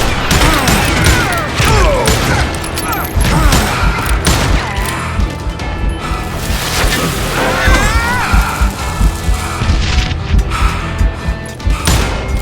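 Gunfire in the Western shooter game Call of Juarez Gunslinger: rapid, loud bursts of shots, booms and impacts packed densely throughout, mixed with shouted voices and game effects.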